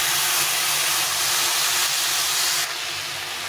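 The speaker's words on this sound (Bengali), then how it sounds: "এখন একটু জল দিয়ে দেবো।" Water poured into a pan of frying vegetables seasoned with turmeric, salt and slit green chillies sets off a loud, steady sizzling hiss that eases slightly toward the end.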